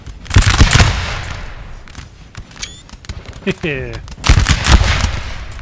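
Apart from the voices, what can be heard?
artillery fire in Napoleon Total War video game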